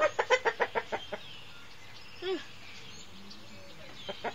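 A voice imitates a rooster, starting with a rapid run of about eight clucking bursts, then a short rising call, then a couple of faint clucks near the end, all close by.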